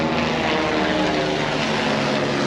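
A Sécurité Civile Dragon helicopter passes overhead a sailing Outremer 55 catamaran at sea. Its loud, continuous engine and rotor roar fills the whole stretch with no voices.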